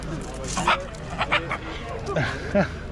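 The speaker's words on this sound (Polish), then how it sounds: "Oj, trzymaj, trzymaj, piesek jest." A small dog yips and barks in short bursts with a few whimpering cries, close by, while people talk and laugh over it.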